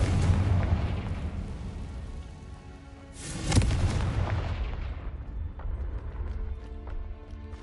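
A Confringo spell explodes in a Harry Potter video game with a sharp blast and deep rumble midway, over ongoing low crackling game ambience that fades toward the end.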